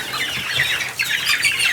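A flock of new pullets, young chickens, clucks and chatters steadily at close range on pasture, overlapping calls forming a busy, continuous chorus with occasional wing flaps.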